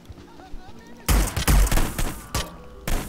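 Gunfire in the stealth video game Hitman: Blood Money, a loud burst of rapid shots after a quiet stretch, followed by further bursts and a final salvo, with a voice talking in between.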